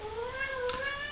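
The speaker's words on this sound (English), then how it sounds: "That was my cat." A single cat meows close by, a short rising-and-falling cry lasting about a second over a quiet room background.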